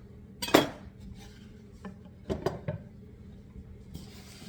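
Pear pieces and nuts tossed with flour in a bowl for muffins make a few scattered clinks and scrapes of a utensil against the bowl, with a louder knock near the start and quiet pauses between.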